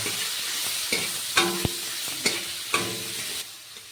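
Chopped tomatoes fry with turmeric in a pan, a steady close sizzle broken by several sharp scrapes and clatters as a spoon stirs them through the oil.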